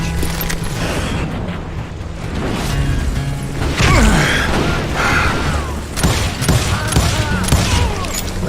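Scattered gunshots in the Western game Call of Juarez Gunslinger, booming shots and echoing cracks over heavy background rumble, with mechanical clanks between them.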